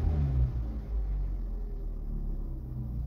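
Opel car engine idling and revving after a full exhaust replacement, a deep steady rumble with a low droning tone and a slight rise near the start, continuous and close without speech.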